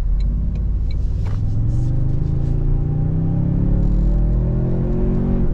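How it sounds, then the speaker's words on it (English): A 2024 Toyota Sequoia Capstone SUV accelerates on a side road, its steady loud engine rumble climbing in pitch throughout, with faint hissing bursts from the turbo blow-off valve early on. "Oh, you can hear the blow-off valve."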